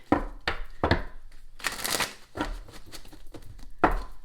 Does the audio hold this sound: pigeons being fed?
no